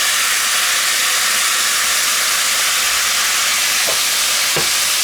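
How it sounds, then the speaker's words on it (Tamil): Chopped tomatoes hit a hot pan for a fish stew, giving a loud, steady hiss of sizzling that fills the whole stretch, with a couple of faint knocks near the end and no voices. "வெட்டி வச்ச தக்காளியை இதில் நான் போட போகிறேன்"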